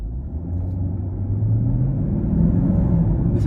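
A 2020 Chevy Camaro SS with a 6.2-liter V8 and 10-speed automatic drives along, its engine a steady low rumble that swells slightly while accelerating, heard alone without talk.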